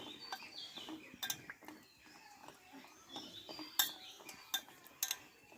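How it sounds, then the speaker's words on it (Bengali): A spoon stirs a sweet mixture being prepared in a home kitchen, giving soft, irregular metallic clinks and scrapes against the bowl at close range, with a few sharper chinks and no talking. "এইভাবে আমি ভালোভাবে চামচটা দিয়ে আমি নাড়িয়ে নেবো"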